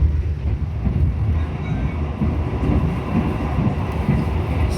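A passenger train running from Semarang to Jakarta Gambir rumbles steadily along the rails, a continuous low, heavy roar with faint rhythmic clatter, heard from inside a carriage.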